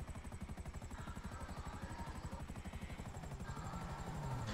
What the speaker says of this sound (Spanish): Me estoy aterrizando con el helicóptero para que subáis